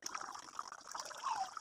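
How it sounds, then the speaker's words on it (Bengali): Water is poured into a pan of pumpkin curry cooked with chicken bones, making a faint, close trickle and splash with no talk. "সামান্য পানি দিয়ে সিদ্ধ করে নিব।"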